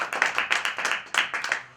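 A small audience claps at a self-employment scheme presentation, with distinct, fairly close handclaps in an uneven rhythm over a couple of seconds.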